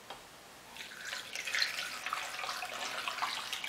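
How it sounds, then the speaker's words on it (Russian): Cold water runs steadily into a pot in a continuous splashing pour, fairly close and moderately loud, with no talking. "Вода, кстати, заливается холодной."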